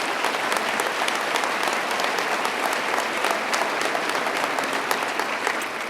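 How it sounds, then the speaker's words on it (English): Sustained applause from a large audience at a state government executive budget presentation, steady and dense throughout with no pauses. "Let's give him a round of applause."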